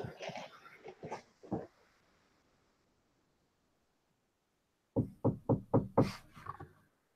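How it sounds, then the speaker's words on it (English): Knocking on a door or table comes as a quick series of five or six sharp, loud raps after a quiet pause, with a few scattered thumps earlier on. "Is somebody knocking on your door, or are you knocking on the table?"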